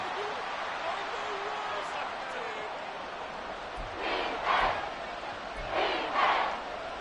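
A stadium crowd in the Madden NFL 24 video game during a New Orleans game holds a constant roar, then swells into two loud cheering bursts near the end, with a voice over the noise.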